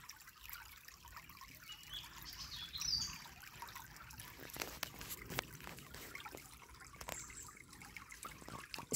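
Gentle river water flowing, a quiet, continuous trickle with a few small drips and splashes scattered through it, fairly faint and unaccompanied.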